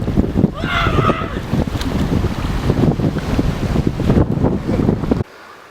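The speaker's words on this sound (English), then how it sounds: "It is so windy out there." Strong wind buffets the microphone in loud, gusty roars while kayaking on the Alsek River, with faint watery sloshing underneath, before cutting off abruptly near the end.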